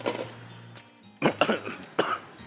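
Several harsh coughs in close succession, loud and near, with short pauses between bursts and no talking.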